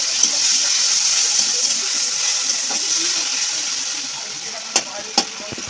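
Garlic paste and water going into a hot frying pan for a Bengali bora jhal curry, a steady close hiss and sizzle running throughout, with two sharp clinks of a utensil near the end.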